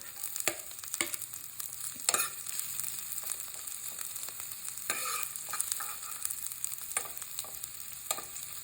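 Ginger and onion sautéing in a pan for squid adobo, a soft continuous sizzle broken by several sharp scraping stirs from a spatula, close up and with no talking.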